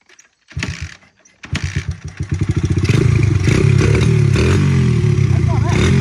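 A Honda CRF100 dirt bike running on E-85 fuel is kicked over, sputters, then catches into a loud, close, steady single-cylinder idle with a few revs, while a voice talks briefly.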